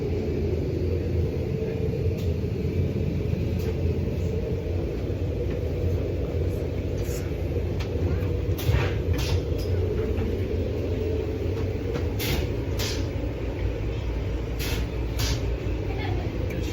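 Steady low rumble of an Amtrak passenger train rolling over the rails after departing Washington, a constant interior drone with faint high clicks and squeaks on top, no clear speech.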